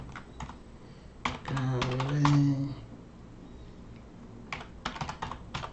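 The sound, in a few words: typing on a computer keyboard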